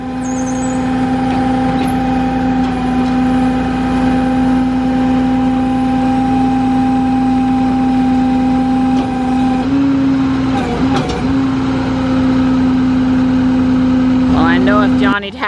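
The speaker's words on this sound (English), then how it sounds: "getting these cars up on the flatbed is really not too hard" A Tesla Model 3 is loaded onto a flatbed tow truck, with a loud, steady mechanical whine and hum that holds throughout, plus brief squeaks and rattles near the end.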